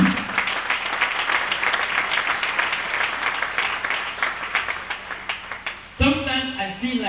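Church congregation in Cameroon applauding during a sermon, sustained dense crowd clapping that runs for about six seconds before breaking off abruptly as a voice takes over at the end.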